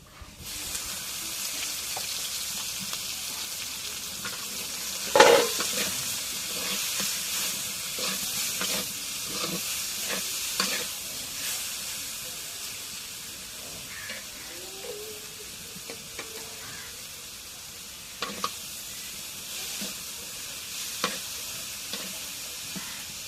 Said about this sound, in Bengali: এখন শাকগুলো দিয়ে দিই।